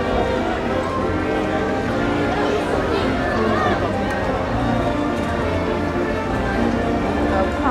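Large crowd of people waiting in the rain to get into Disneyland, a dense, continuous babble of chatter under steady background noise.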